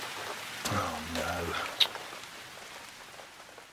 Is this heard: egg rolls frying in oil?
no